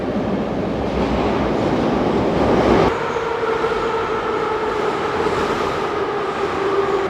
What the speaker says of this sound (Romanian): Gata, ne vine metroul.